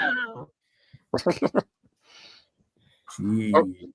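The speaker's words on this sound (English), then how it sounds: "Show the cat fight." Cats fighting indoors, with harsh caterwauls and yowls in short bursts: a drawn-out cry at the start, a quick cluster of sharp yelps, then a loud sustained howl near the end, fairly close.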